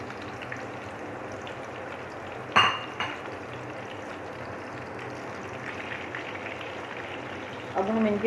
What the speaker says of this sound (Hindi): अब मैं इसमें डालती हूँ कबाब, ताकि ये स्लो आंच पे अच्छी तरह से फ्राई हो जाए।